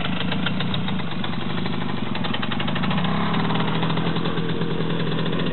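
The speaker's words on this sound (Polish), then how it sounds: "Chyba widać, że ten silnik tak pracuje." A Romet Pony motorcycle engine idling close by, a steady putter with a slightly uneven, knocking rhythm that roughens a little partway through, running alone without talk.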